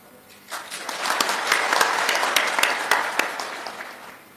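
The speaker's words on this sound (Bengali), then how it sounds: "এই হাততালি আপনাদের প্রাপ্য।" An audience applauds the police during Chief Adviser Dr. Yunus's speech. The clapping swells in after a brief pause, holds as a loud, sustained crowd ovation with scattered sharp claps, then tapers off.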